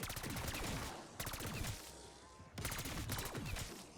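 Rapid gunfire in the video game Black Ops 6, dense bursts of automatic shots in three quick runs separated by brief pauses, loud and close, with no voices.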